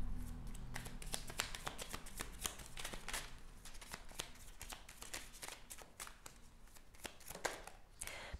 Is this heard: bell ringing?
no